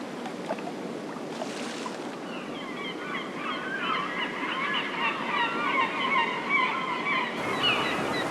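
Seabirds at a river mouth cry in a dense overlapping chorus of honking calls above a constant rush of water and wind, loud and continuous with no voices.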